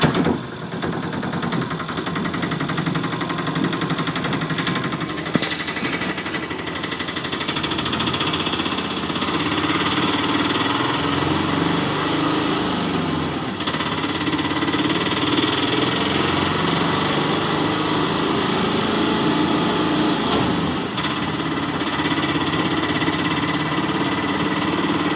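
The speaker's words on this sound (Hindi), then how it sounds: "चलो चलो सीएनजी ऑटो को चलाते हैं।" Toy CNG auto rickshaw engine running steadily, a loud, buzzy, rattling motor drone with small bumps in level, continuous for the whole stretch with no talk.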